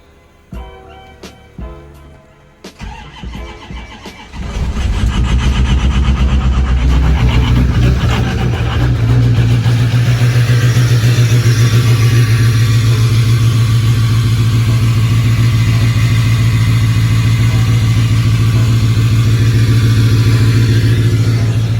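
A few sharp clicks and clunks, then a Ford F450 truck engine cranks and catches, settling into a loud, steady low rumble that holds close and constant through the rest, with no talk.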